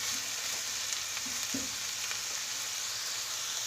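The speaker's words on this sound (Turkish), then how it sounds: "Evet, güzelce karıştırmaya devam edelim." Spiced ground meat filling for karnıyarık fries in a pan with a constant close sizzle, broken by a few soft scrapes and knocks as it is stirred, with no talking.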